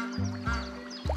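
A short duck quack in the video game SCHiM, a couple of nasal, buzzy honks close and clear, lasting about a second with no talk over it.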